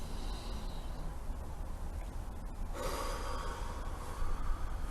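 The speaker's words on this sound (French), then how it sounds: "Alors vous prenez une grande respiration." A deep breath drawn in during a guided EFT tapping relaxation, a long breathy inhale with no voices over it, heard close and fairly quiet against a steady hiss.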